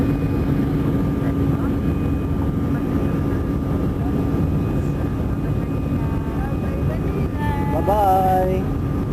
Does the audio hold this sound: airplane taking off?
yes